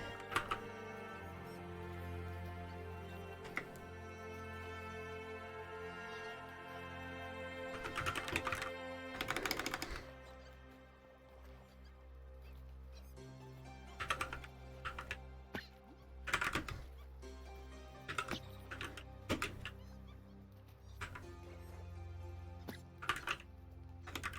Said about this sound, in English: You guys probably can hear my keyboard, right?